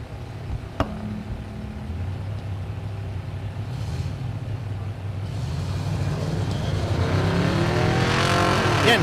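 A Chevrolet Silverado pickup with a topper and a Camaro launch down the drag strip at Thunder Valley in Noble, Oklahoma, engines droning low then swelling into a loud rising roar near the end, with no voices.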